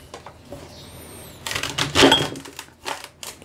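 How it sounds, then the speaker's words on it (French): A knife chops through a leek on a board in a kitchen, giving a dense, crunchy burst of cutting and scraping followed by a few sharper knocks, close and fairly loud, with no talk. "Le deuxième poireau, je coupe aussi ça."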